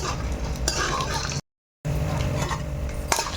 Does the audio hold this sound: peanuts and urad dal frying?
yes